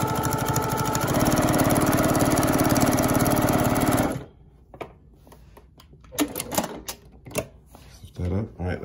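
A sewing machine stitches fabric for a quilt border in a fast, loud, steady whir for about four seconds, then stops; afterward a person talks and handles things nearby.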